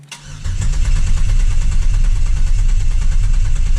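A 4th gen Camaro's 3.8L V6 cranks and turns over, a loud, close, steady low rumble that builds within the first half second and holds without any voices.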